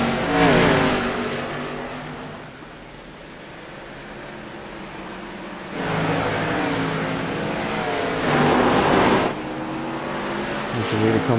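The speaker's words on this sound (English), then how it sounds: "These all the cars race down into turn number 1 and flat on the back straightaway." ARCA Menards stock cars race around an oval track, their engines roaring in swelling waves as packs pass, while a commentator talks over the noise throughout.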